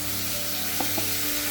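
Half a kilo of mutton sizzles in a pan of fried tomatoes for a kurma, giving a steady close frying hiss with a couple of soft stirring scrapes partway through.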